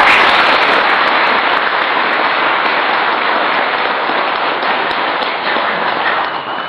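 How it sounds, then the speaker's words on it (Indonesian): An audience at an Islamic religious lecture applauds, a loud, steady wash of clapping that holds evenly for several seconds and eases slightly toward the end, with no talking over it. "Tepuk tangan untuk ayah dulu."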